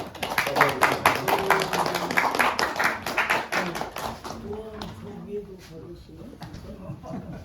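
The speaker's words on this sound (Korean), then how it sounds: "여러분들 우리 박순님" An audience at a spiritual retreat lecture gives a warm round of applause for a guest who travelled from Hongcheon, dense rapid clapping that fades into scattered claps and voices.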